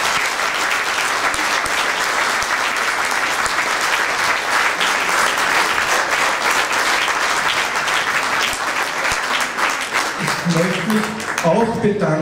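An audience at the 2012 pro mente Wien New Year's reception gives sustained, even applause for about twelve seconds, a steady wash of many clapping hands, with a voice starting to speak just as it fades at the end.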